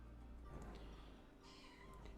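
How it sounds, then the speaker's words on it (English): A pet cat named Vivi meows insistently, a few short, fairly faint meows over a quiet indoor room hum. "don't know if you can hear him meowing"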